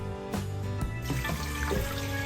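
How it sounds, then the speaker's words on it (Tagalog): Tap water runs into a pot of washed beef being prepared for sinigang, a steady splashing pour with a few brief interruptions, close and fairly quiet. "So, lagyan natin uli ng tubig."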